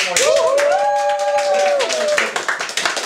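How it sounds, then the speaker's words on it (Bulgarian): Clapping from a comedy-club audience for a stand-up comedian, scattered hand claps under and after a drawn-out vocal tone from the stage, fading into sparse individual claps. "благодаря за спонтанните аплодисменти"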